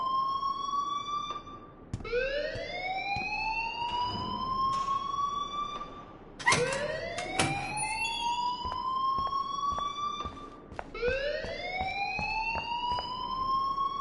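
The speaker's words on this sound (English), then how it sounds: "please turn off that alarm since that's your job" Rising and falling electronic alarm wails in the video game Life is Strange, repeating in several long sweeping cycles with sharp onsets, loud and steady throughout with no talking.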